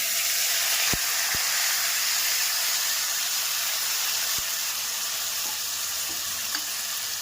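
Sprouted moth beans sizzle steadily in hot oil with asafoetida and turmeric, sautéed in a pan for Maharashtrian misal, a close continuous frying hiss with a few sharp stirring clicks and no talk.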